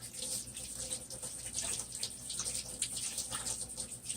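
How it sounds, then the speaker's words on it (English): Tap water runs steadily into a sink as paint is washed off hands, a close, even rushing splash lasting a few seconds with no talk over it. "I'm just trying to wash all the paint off my hands real quick."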